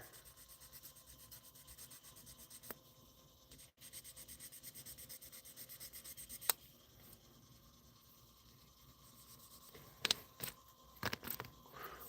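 Faint, steady rubbing of 1000-grit sandpaper worked by hand across a surface, a soft continuous scratchy hiss with a few sharp ticks and small knocks near the end.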